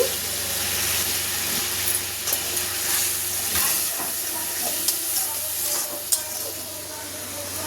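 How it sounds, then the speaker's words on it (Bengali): Ghee with cumin, turmeric, chilli powder, ginger, green chilli and yogurt sizzles in a pan with a steady close hiss, and a spoon stirs and taps now and then. There is no talking over it. "এবার এর মধ্যে দেবো একটু ঘি"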